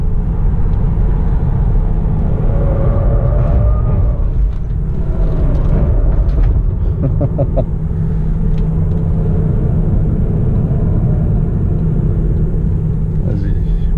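A Tesla Model 3 Performance on a race circuit in track mode brakes and accelerates again, producing a loud, steady low rumble of road and wind noise with electric drive whine while someone talks over it.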